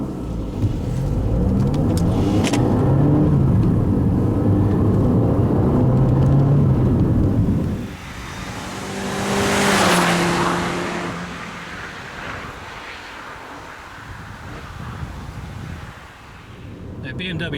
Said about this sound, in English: Today we're driving the modern Mini Cooper.